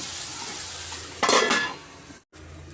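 Eggplant frying in a pan for vangibath, with a steady hiss of oil, a louder burst of sizzling and clatter partway through, then a brief silence before the frying resumes.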